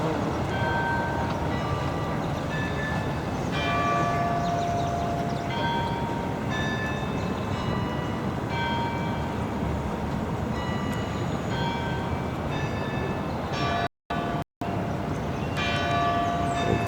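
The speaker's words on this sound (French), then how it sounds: "ici, on entend des cloches" Town church bells ringing out steadily for a long stretch, a repeated metallic tolling with lingering overtones, fairly loud and clear over a constant outdoor background hum, with one brief dropout near the end.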